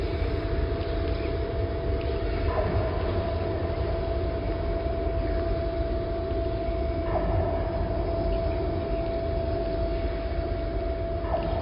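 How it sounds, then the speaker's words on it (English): An abandoned telegraph wire played by wind in the Australian outback makes a steady low drone with a sustained humming tone, rumbling continuously, broadband and unbroken, with faint periodic swells throughout. "These are sounds made by an abandoned telegraph wire in the Australian outback"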